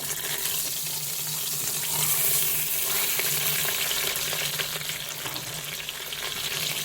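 Veal osso buco sears in a Cookeo multicooker pot, giving a steady, moderately quiet sizzle of frying meat with no break.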